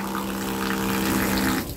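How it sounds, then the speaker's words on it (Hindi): A dual-motor high-pressure spray pump rated 220 PSI and 9 LPM, used for washing bikes and cars, hums steadily while water rushes through it at close range. "देखिए पंप मेरा ऑन हुआ"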